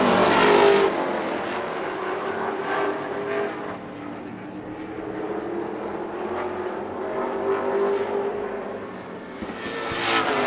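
Pro stock race cars roar around an oval track, a loud continuous engine drone swelling and fading as the pack passes close by, with no talk over it.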